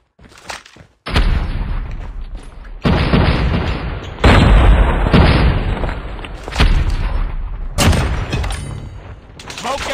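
A frag grenade in the Call of Duty Mobile video game detonates with loud booming blasts amid gunfire and game effects, several heavy explosive bursts following one another over about ten seconds.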